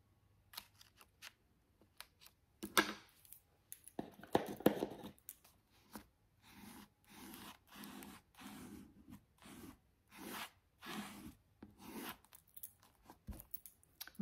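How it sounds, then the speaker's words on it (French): Scissors cut paper for a junk journal page, a run of crisp rhythmic snips at close range, with a few rustles and taps before the steady cutting begins. "ici, on va le couper proprement."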